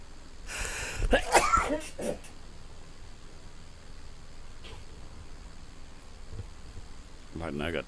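A small-plane pilot wearing a headset sneezes in the cockpit, a short burst of two or three sharp sneezes early on, then a quieter stretch of engine hum with a faint later sound and a brief voice at the end.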